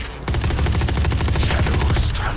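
Rapid bursts of suppressed gunfire in a tactical shooter game, a dense rattling string of muffled shots after a brief lull, steady and close throughout.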